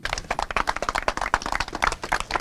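Steady, fairly loud clapping from a crowd, many hands beating in a fast, even rhythm throughout, as onlookers cheer on a Guinness record attempt with a finger-pushed helicopter.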